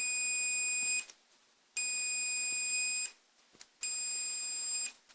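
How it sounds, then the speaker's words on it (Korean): A multimeter continuity tester beeping across a charger transformer on a cordless drill charger board, three long steady high-pitched tones separated by short gaps, loud and close, with faint handling noise between. "여기까지는 어느 거를 찍거나 벨소리가 난다는 거예요"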